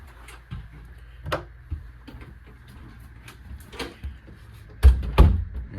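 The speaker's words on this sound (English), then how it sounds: "And then your shower just opens up like that." A shower door in a 2012 Copper Canyon 314FWRLS fifth-wheel RV swings open and shut. Soft knocks and rattles build to two louder, close thumps near the end over a quiet room.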